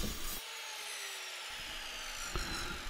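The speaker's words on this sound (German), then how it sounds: "Dazu säge ich mit meiner Kappsäge eine gleichmäßige 15 Grad Schräge an die beiden" A miter saw cuts an even 15-degree bevel into the wooden side panels of a birdhouse, giving a close, continuous whirring rasp of the blade through the wood with a brief knock near the end.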